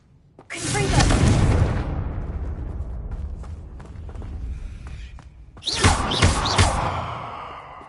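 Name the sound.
Confringo fire-blast spell in Hogwarts Legacy video game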